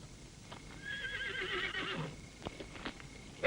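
A horse whinnies in a long, wavering call, with a few hoof knocks and clatters around it against a quiet background.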